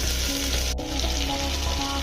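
Tomato and arhar dal going into hot oil, a dense, loud bubbling sizzle with one sharp crack partway through, close and continuous over a low steady hum, no speech.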